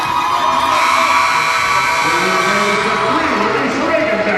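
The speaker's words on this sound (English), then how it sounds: "Crowd trying to rally the Bruins." An arena crowd at a UCLA Bruins women's college volleyball match against Oregon State roars and cheers steadily, loud and sustained with shouts and whoops throughout.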